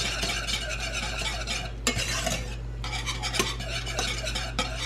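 Egg mixture stirred in a hot pan on the stove, a steady scraping and sizzling with occasional utensil knocks against the pan, close and continuous under a constant low hum, no voices.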